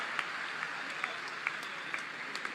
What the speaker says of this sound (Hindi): सारा दिन तालियां बजाते रहेंगे आप।